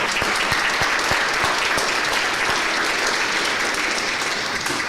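Dense, steady applause from an audience at a panel talk event, sustained at even loudness for about five seconds with no voices over it.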